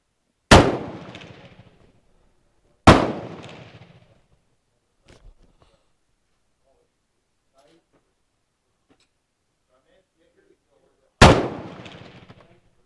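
An FN FAL STG58 rifle fires three loud, sharp shots close by, two about two seconds apart and a third after a long quiet gap, each with a ringing decay; faint clinks sit between them.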